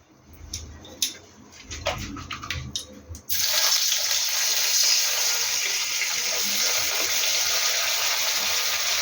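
Water runs steadily onto jaggery for sugar-coated olive pickle, a constant splashing rush near the source that starts abruptly after a few seconds of scattered kitchen clatter.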